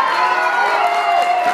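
A crowd at a quinceañera celebration with mariachi music cheers and applauds loudly and continuously, voices and clapping blended into a dense steady wash with sustained tones underneath.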